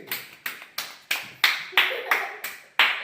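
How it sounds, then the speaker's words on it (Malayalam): Rhythmic hand clapping cheering on a boy named Arjun during a family biscuit-eating challenge game, about nine sharp, evenly spaced claps, close and loud. "അമ്മമ്മേ അർജുനെ കൈയടിച്ച് പ്രോത്സാഹിപ്പിക്ക്"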